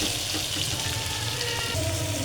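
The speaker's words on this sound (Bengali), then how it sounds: "আলুটা ভাজা ভাজা হয়ে আসছে।" Potatoes with turmeric fry in a pan for a curry with snakehead fish, giving a steady soft sizzle and crackle that runs unbroken, fairly quiet, with no talking.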